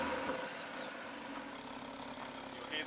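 A BMW M235i car engine running at a steady idle, a low continuous rumble heard up close with no talking.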